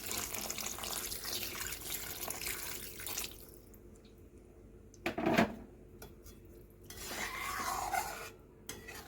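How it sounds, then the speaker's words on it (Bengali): Hot water poured into a pan of potato curry for Bengali dhokar dalna, a broad watery rush with a brief louder splash midway, then more pouring and simmering texture, with no talking. "গরম জল দিয়ে দিলাম।"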